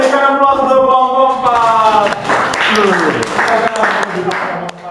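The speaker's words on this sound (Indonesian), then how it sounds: "kita berikan aplaus untuk kelompok" A classroom claps for a student group: a teacher's voice gives way to a burst of scattered applause from the students, which fades back under talk.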